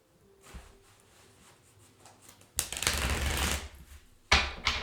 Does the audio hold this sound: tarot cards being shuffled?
yes